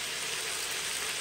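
Chicken cooks in water in a pot, giving a dense, steady, hissing bubble that runs unchanged through the whole brief moment, with no voices.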